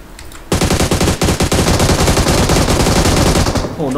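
Sustained automatic gunfire in PUBG Mobile, rapid bursts firing almost continuously, loud and close.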